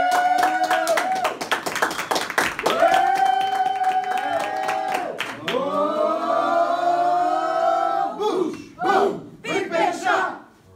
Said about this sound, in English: So please give a big round of applause to Matt Chang.